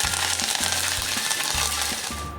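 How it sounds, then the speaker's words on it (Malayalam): Curry leaves and mustard seeds crackling in hot coconut oil for Kerala-style bitter gourd stir-fry, a loud close sizzle over a recurring low rhythmic hum that pulses steadily throughout. "കറിവേപ്പില ഇട്ട് കൊടുത്തിട്ടുണ്ട്"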